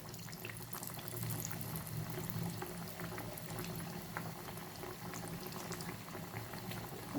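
Chana dal vadas fry in hot oil, giving a steady, dense bubbling and crackling that stays close and fairly even throughout, with no voices.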